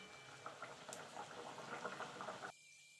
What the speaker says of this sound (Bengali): এইভাবে আমি বাকি কচুরিগুলো ভেজে নেব।